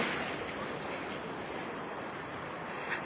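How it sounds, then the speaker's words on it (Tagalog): Big surf on a beach, with waves taller than a person, makes a steady, soft, distant wash of breaking water with a faint rumble and no voices. "Ayun na, sobrang laki ng alon"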